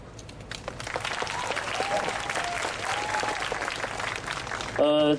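Warm audience applause welcomes a singer at a June Fourth 22nd anniversary memorial evening. The steady, dense clapping from a large crowd fills the space, with some voices mixed in, and a brief tonal sound near the end.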